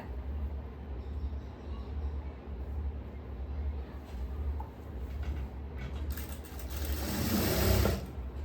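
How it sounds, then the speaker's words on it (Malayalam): A sewing machine stitches the back neck of a printed kurti, a steady close mechanical whir running the whole time and swelling louder and brighter near the end. "ഞാൻ ഈ ബാക്ക് നെക്ക് അങ്ങ് അടിച്ചു കൊടുക്കുവാണ് കേട്ടോ"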